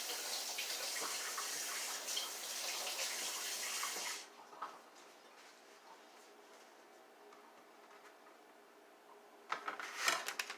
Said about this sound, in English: Give your hands a rinse because because your eyes will burn.